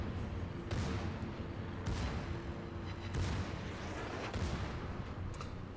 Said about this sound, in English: Oh, and the secondaries are going off.